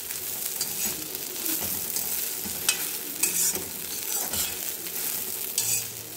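Colocasia leaf vadi frying in oil while being stirred, with a steady loud sizzle and occasional soft scraping and turning sounds close by, no talking.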